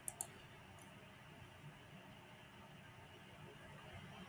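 A computer mouse clicks twice in quick succession, close but quiet, followed by a softer single click, while software design work goes on at a desk over a low steady hiss.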